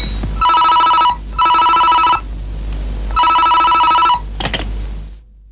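A telephone rings in a Telugu film scene, sounding three loud, evenly spaced bursts of electronic bell trills with short pauses between them, followed by a brief clatter as the receiver is picked up.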